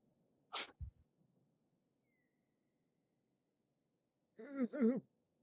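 A single abrupt sneeze bursts out nearby, followed a few seconds later by a short voiced exhale over a quiet background.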